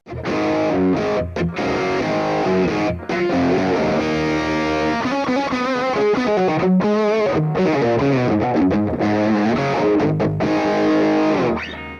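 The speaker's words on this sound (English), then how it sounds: "And back to the DS-1 into a dirty sound." Electric guitar through a Boss DS-1 distortion pedal into a distorted amp: heavily distorted riffs grind out thick and saturated, with short breaks between phrases. Loud and continuous, with no voices.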